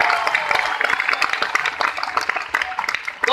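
An audience clapping at a business meeting, a dense and steady patter of many hands, loud and close, with scattered sharp claps standing out and some voices mixed in.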